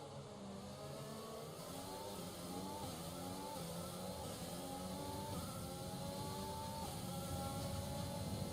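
Race car engine in F1 2020 revving hard with wheel spin, a steady high-pitched whine with rising and falling gear sweeps, continuous and fairly close.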